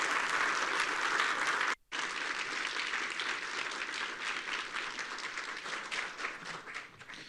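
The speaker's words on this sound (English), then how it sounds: "let's give one more round of applause to Dr. Nico Stevens" Audience applause at a library technology conference session, sustained dense clapping from a large crowd with one brief break near the start, then continuing steadily before slowly thinning.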